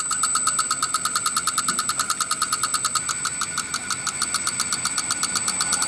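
Farm tractor engine running steadily in a rice-field setting, a rapid rhythmic chugging with a high whine, fairly loud and continuous with no voices.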